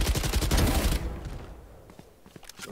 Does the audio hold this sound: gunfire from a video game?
yes